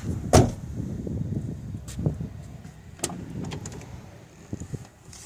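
A rear door of a Fiat Panda II clunks as it opens and shuts, a sharp close thud followed by softer latch and handle clicks, with no talking.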